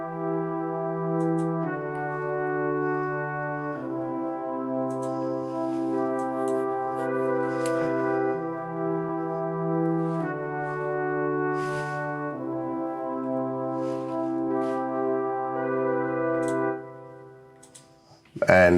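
Kontakt strings in an Afro House beat play sustained layered chords that shift every couple of seconds, steady and up front, with a faint ticking percussion and a brief cutoff near the end.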